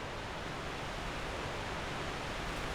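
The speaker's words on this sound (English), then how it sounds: "The world's loudest waterfall." A loud waterfall in Dark Souls 2 pours as a dense, unbroken hiss and rush of water, steady and close with no other sounds over it.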